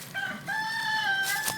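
A rooster crows close by in a hen house on a rural property, one drawn-out harmonic call rising and holding, with faint clucking and a brief squawk at the end.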